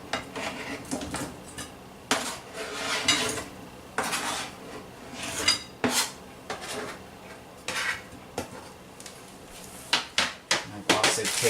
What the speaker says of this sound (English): I've got my pineapple here that's going to go straight into the bowl.